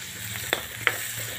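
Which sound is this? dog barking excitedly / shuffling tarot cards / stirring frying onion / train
stirring frying onion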